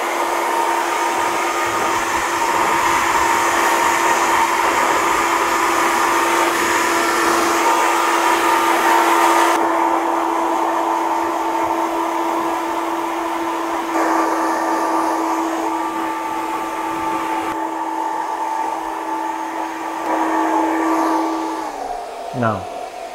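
Hair dryer on high heat and high speed in a barbershop, blow-drying long hair: a loud, steady whine with a constant tone runs close by throughout and cuts off abruptly near the end.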